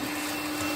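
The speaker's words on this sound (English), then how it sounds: "For a portable vacuum cleaner?" A Makita 18-volt cordless portable vacuum cleaner runs steadily up close, a constant airy roar with a thin, even motor whine and no pauses.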